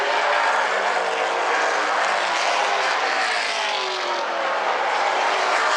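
Super late model race cars run an A-Main 100 at South Sound Speedway, a loud, continuous engine roar from several cars that swells and blends without a break.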